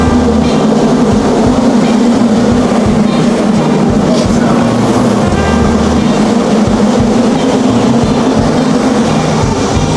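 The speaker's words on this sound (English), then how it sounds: "There it comes. This is our train" A Staten Island Railway train rolls in loudly and close, a constant heavy rumble and rattle of wheels on rails filling the whole stretch.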